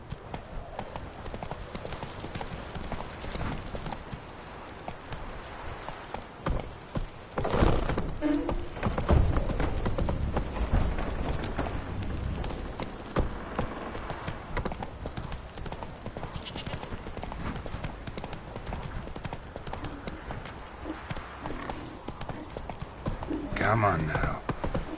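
Hooves of Roach, a horse in The Witcher 3, clip-clop in a steady galloping rhythm throughout, up close, with a voice speaking over parts of it.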